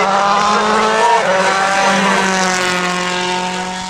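A rally car roars past close by on a Wales Rally GB stage, its engine revving high and loud with a shifting pitch before easing off as it moves away.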